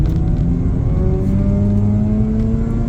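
Rotary engine of a Mazda RX-8 R3 with a six-speed manual, heard from inside the car while driving, revving steadily higher in a smooth rising whine over road rumble, loud and continuous with no talking.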